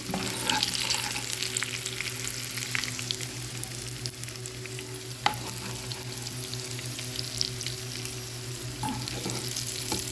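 Pickle spices are tipped into dal frying in hot oil for achari dal, and a steady, loud sizzle runs throughout with occasional stirring scrapes and clinks and no talk.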